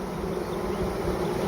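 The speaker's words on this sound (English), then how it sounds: "And we've got some other bees here." Honey bees buzzing around a queen package during hive installation, a dense, steady, close hum of many wings that continues without a pause and with no voices.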